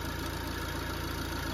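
Opel Vivaro van with a cylinder 3 injector circuit fault idling nearby, a steady low, even engine drone with faint rhythmic pulsing and no change in pace.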